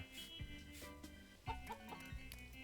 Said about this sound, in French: Oh, la petite poule.